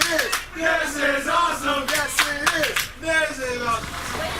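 Spectators at a backyard wrestling tournament shout and clap in rhythmic bursts, with excited voices rising over the clapping throughout.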